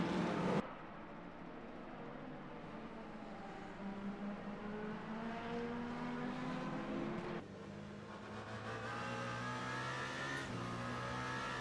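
Race car engines in the Le Mans Ultimate sim racing game at a wet-to-dry Monza race, including a Toyota GR010 with a BMW closing behind, droning steadily with rising and shifting engine tones throughout, loud and continuous with no talking.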